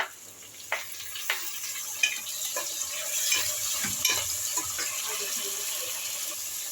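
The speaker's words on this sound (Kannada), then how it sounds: "ಟೊಮೆಟೊನು ಚೆನ್ನಾಗಿ ಫ್ರೈ ಆಗಬೇಕು" Tomatoes frying in a pan for Hyderabadi dum biryani, a constant bright sizzle with intermittent scraping taps as a spoon stirs them, close and steady throughout.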